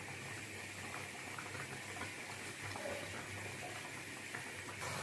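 Fish cooks in a pot of boiling turmeric water, giving a steady, quiet bubbling and simmering that continues evenly throughout with no voices.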